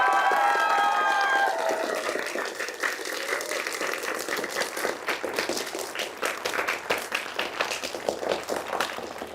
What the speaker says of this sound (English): I want you to cheer for your teachers